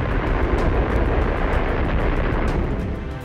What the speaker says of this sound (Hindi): मॉस्को के समय के हिसाब से सुबह 11:32 पर बम धमाका हुआ